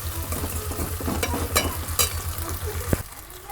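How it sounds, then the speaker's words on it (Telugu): Onion, ginger-garlic paste, tomato and green chillies fry in a pan for a potato egg curry, a close steady sizzle with scraping stirs and a few sharp clinks of a utensil, no voices. "టమాటా అయితే వేగుతుందండి."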